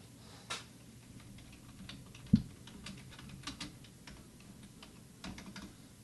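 Computer keyboard keys clicking in a scattered, uneven rhythm, a few sharper taps standing out, close and fairly quiet over a low background hum.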